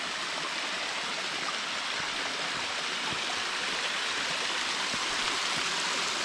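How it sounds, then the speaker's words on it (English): A waterfall spills into the deep Myuna Pool beneath a rock overhang in Heathcote National Park, a loud, steady, broadband rushing roar that stays constant throughout without any talking. "A waterfall."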